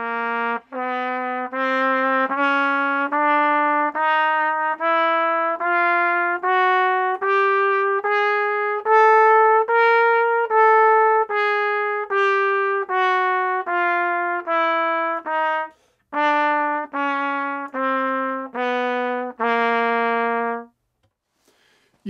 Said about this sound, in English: When you put the chromatic scale together, it sounds like this.